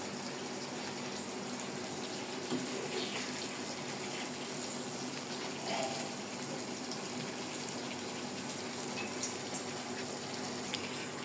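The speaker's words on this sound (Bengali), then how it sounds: "মাছগুলো কষানো শেষে একেবারে ঝোলের পানি দিয়ে দেওয়া হলো" Water pours steadily into a pot of Bengali katla fish curry with a soft, continuous rushing and splashing, fairly quiet and without any talking.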